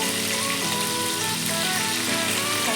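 Fish pieces frying in hot oil over low heat give off a steady, dense crackling sizzle that runs without a break. A faint tonal hum sits beneath it.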